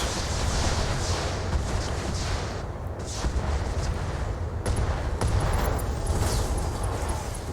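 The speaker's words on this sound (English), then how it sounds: "And we just drop incendiaries on him" Incendiaries raining down on an enemy in the Battletech video game, a sustained rumbling roar of blasts and burning that stays loud and dense with few breaks.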